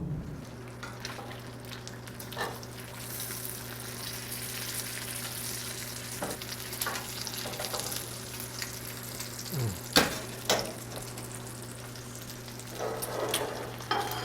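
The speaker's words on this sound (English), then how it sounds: "Now we can fry this up and see how it turned out." Homemade bacon frying in a pan, a steady close crackling sizzle with scattered sharper pops throughout, accompanied by a low continuous hum.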